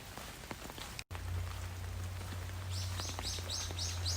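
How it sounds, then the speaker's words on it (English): Birds chirp during heavy rain on a walk near a valley trail, with rhythmic repeated calls coming in partway through over the constant hiss of rainfall. "Listen to the birds singing."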